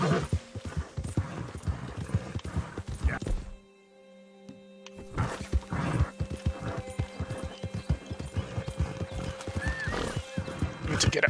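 Shadowfax, a horse ridden in the video game Red Dead Redemption 2, clip-clops along in a steady, close hoofbeat rhythm, with a whinny late on and a short lull in the middle.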